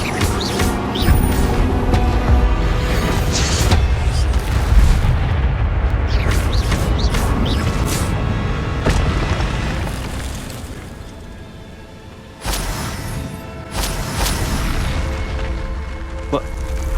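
An Incendio fire spell is cast in the Hogwarts Legacy video game, giving loud rumbling blasts and bursts over a continuous roar, with a brief dip before the noise resumes and a voice talking throughout.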